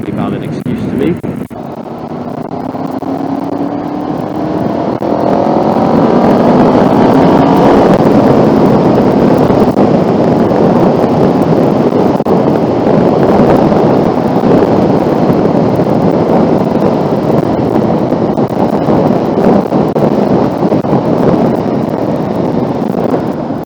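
Honda VFR750 motorcycle on the road, with engine pitch climbing as it revs out and then heavy wind rush buffeting the microphone, loud and continuous, rider's voice partly audible over it.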